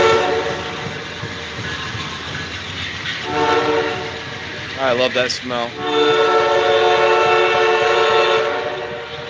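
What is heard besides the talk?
train horn, higher-pitched than usual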